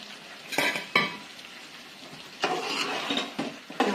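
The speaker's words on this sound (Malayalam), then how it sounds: "നന്നായി ഇളക്കി കൊടുക്കുക." Spoon stirring chicken curry in a pan: bursts of scraping and sizzling come in uneven strokes with quieter gaps, close and moderately loud, no talking.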